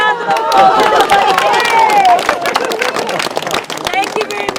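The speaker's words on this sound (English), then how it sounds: "Give them all a round of applause" Crowd applauding and cheering after a Māori welcome performance in New Zealand, loud close clapping with whoops and cheers, talk mixed in throughout.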